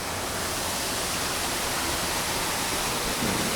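Thottikona waterfall roars as a continuous broadband rush of falling water, loud and close, steady for the whole stretch with no voices.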